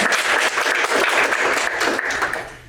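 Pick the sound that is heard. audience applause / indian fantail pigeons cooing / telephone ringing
audience applause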